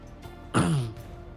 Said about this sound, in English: coughs a bit